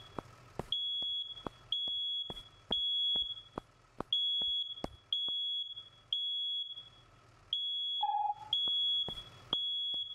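A smoke alarm in the firefighting game Into the Flames sounds a steady chain of sharp, loud beeps at a regular rhythm, with short clicks and a brief lower tone between them and no talking.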